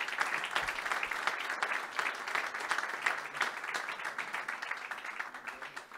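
Audience applause fills a presentation event for an Adidas agreement with the Catalan football federation, steady dense clapping from a crowd for about six seconds.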